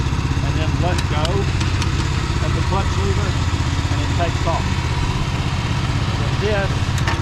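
A BCS walk-behind tractor's engine runs steadily close by, a constant low mechanical chug with faint chirps and squeaks over it and no speech.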